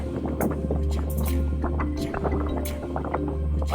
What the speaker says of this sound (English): That's what the engine's for.